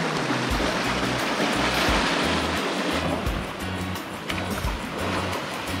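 A clear mountain stream in the Lost Valley, Glencoe, Scotland, rushes in a constant broadband wash of water that stays close and fairly loud, with occasional low thumps and no clear speech.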